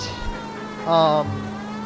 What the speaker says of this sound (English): And there's my effing siren.